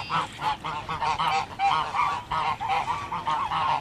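An angry mother goose honks loudly and close, a rapid run of harsh, nasal calls repeating almost without pause, with no talking.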